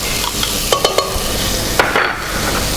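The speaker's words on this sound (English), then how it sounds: "we are ready to start sauteing our vegetables. That's 1 whole onion in there" A whole chopped onion sautés in a pan for a beef stew, giving a loud, close, continuous sizzle broken by a few sharp stirring clicks and scrapes.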